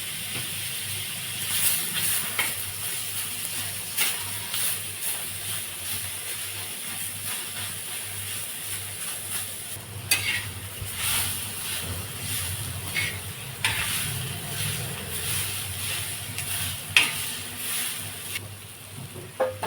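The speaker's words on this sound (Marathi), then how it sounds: "आपल्याला लालसर कांदा भाजून घ्यायचा आहे आपण काय करूया ह्या टोमॅटो टाकून घेऊया" Chopped onion and tomato frying in a pan for a spicy chicken curry gravy, a steady broadband hiss and sizzle running continuously for about twenty seconds with occasional louder crackles and stirring bumps.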